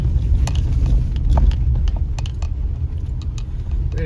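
A car engine rumbles steadily while climbing a muddy stretch of Low Gap Road, shifting down into second gear, with scattered clicks and knocks from the vehicle over a constant low drone.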